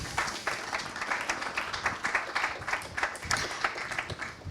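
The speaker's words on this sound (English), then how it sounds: "I'm glad you got your applause in" An audience at a panel discussion on the frontlines of the war in Ukraine breaks into applause, with lively, uneven clapping that swells and ebbs without pause.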